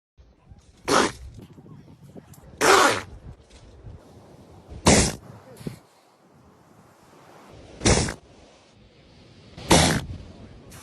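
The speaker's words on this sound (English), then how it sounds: "I sneezed." A person sneezing five times, each sneeze a loud, sharp burst spaced about two seconds apart, with quiet gaps and faint background noise between them.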